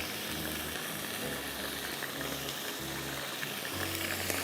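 Chopped garlic sizzles steadily in a hot pan with oil while a low pulsing hum from a kitchen appliance runs underneath throughout.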